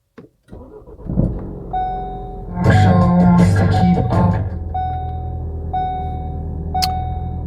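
A Ford RS car is started, a short starter crank catching into a loud engine rev that settles to a steady idle, while repeated electronic warning chimes ring out close by.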